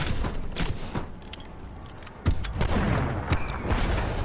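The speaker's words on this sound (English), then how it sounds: "So they do fireworks." Firework pistols shoot fireworks in PlanetSide 2, a string of loud sharp cracks and booms spread across several seconds, with crackling sparkle and rumbling echoes between the blasts.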